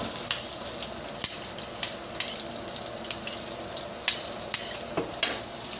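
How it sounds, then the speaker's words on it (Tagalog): Garlic fries in a pan with a steady, soft sizzle, broken by sharp crackles and pops and occasional stirring scrapes, heard alone. "So ilagay agad natin yung bawang."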